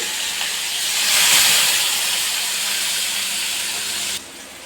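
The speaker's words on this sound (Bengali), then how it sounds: "পেঁয়াজগুলো এখানে ভাজা ভাজা হোক" Onions dropped into hot oil sizzling with a loud, bright, steady hiss that swells briefly and then cuts down near the end.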